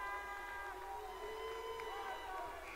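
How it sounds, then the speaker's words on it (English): Basketball crowd at a boys' high school game between Lovington and Artesia during free throws, a steady wash of booing and clapping from the stands, continuous and moderately distant. "The Boo Birds come out from the blue side. The Claps come out from the orange side."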